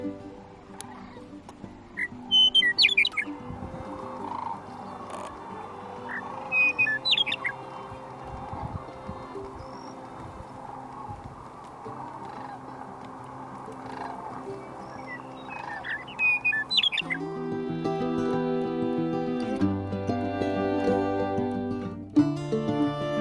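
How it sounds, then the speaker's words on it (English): A western meadowlark sings in snowy Nebraska, its short whistled phrases coming a few times at moderate distance over a steady low hum, followed by a louder sustained droning tone toward the end. "Another western meadowlark."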